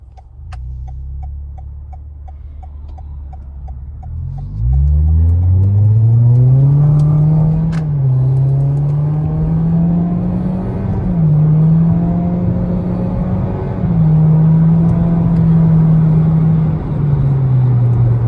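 A car fitted with an Injen X Pedal Pro Black Edition throttle controller idles low, then accelerates hard and climbs smoothly through several gear shifts, the engine note rising and dipping at each change, loud and close with no talk.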